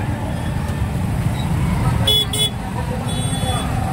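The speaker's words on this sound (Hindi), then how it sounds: "ट्रैफिक देखो, ट्रैफिक क्या हो रहा है यहाँ पे अभी, इतनी खतरनाक ट्रैफिक है यहाँ पे चारों तरफ।" Heavy road traffic rumbles close by in a Dahi Handi festival crowd in Raipur, with a couple of short car horn toots over the continuous engine noise.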